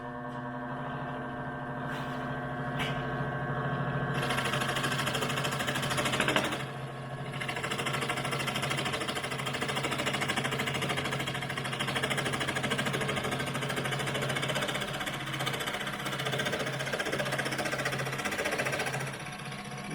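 A Porter Cable scroll saw runs steadily with a fast buzzing, clattering blade action as it cuts through 1/2 inch MDF, the tone shifting slightly as the speed is raised; close and continuous, with no talking.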